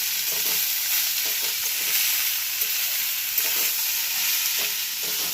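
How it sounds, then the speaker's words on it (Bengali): Onions are stirred and fried in a pan for Bengali piyaj posto, a loud, constant hissing sizzle with repeated scraping strokes of the spatula, no voices. "এতে আমি এখন একটু ভালো করে নাড়াচাড়া করে পেঁয়াজগুলোকে ভেজে নিই"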